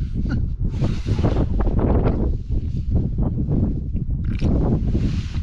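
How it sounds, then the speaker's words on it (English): Low, rumbling wind buffets the microphone in gusts outside a tarp at a wild camp on Dartmoor, with a rustling, flapping texture, continuous and close for the whole stretch. "every now and again you just get these nasty little gusts"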